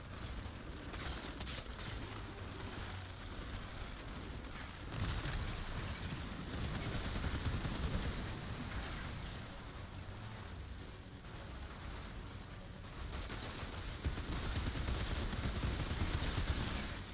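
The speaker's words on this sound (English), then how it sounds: "Shooting caustic bullets at me, I guess." An enemy captain shooting caustic bullets in a video game: a continuous dense barrage of gunfire and booms that fills the whole stretch, steady and fairly loud, with no talking.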